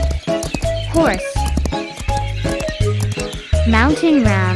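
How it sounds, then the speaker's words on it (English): A horse whinnies with rising and falling neighs over a bouncy rhythmic music track in a children's animal-sounds cartoon, loud and close. "Horse."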